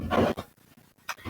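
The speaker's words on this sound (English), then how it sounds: "That's my dog being noisy as usual." A dog panting in quick breathy bursts, with a few short high whimpers, heard close and at moderate loudness with no talk over it.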